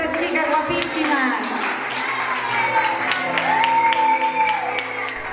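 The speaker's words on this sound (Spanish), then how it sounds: "¡Fuerte el aplauso para estas chicas guapísimas!" Crowd applauding the newly named festival queens and maids of honour at a neighbourhood fiesta event, steady clapping and cheering mixed with a loud voice talking over it throughout.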